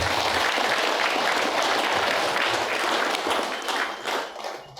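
An audience breaks into loud, dense applause that fills the space steadily before tapering off near the end.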